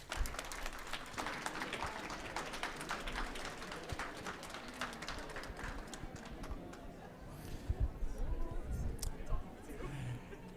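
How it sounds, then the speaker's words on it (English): An audience at a Night of Science panel discussion claps loudly and densely for several seconds, and the applause thins out toward the end with a few scattered claps and thumps. "let's give them a round of applause"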